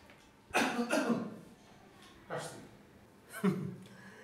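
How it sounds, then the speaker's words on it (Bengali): A man gives a dry, tickly cough in a radio drama: three short raspy bursts close to the microphone, separated by brief pauses. "ঝেড়ে কাশি না, এটা হচ্ছে আপনার মানে বলে না খুসখুসে কাশি, সেরকম"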